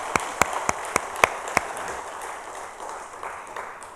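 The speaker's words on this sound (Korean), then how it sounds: "박수로 한번 감사합시다" A church congregation claps at a Sunday service: a handful of sharp, loud, evenly spaced claps in the first second and a half, then a softer, diffuse patter that fades into room murmur.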